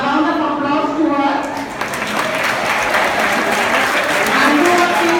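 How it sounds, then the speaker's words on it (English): Audience applause at a school felicitation event, sustained loud clapping from a crowd, with a voice speaking over the start and cheering or murmurs mixed in. "a round of applause to her"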